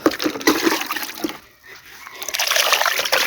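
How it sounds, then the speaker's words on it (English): Water splashes and trickles from a watering can onto tomato seedlings, a steady close pour that dips briefly in the middle before resuming. "I do my watering."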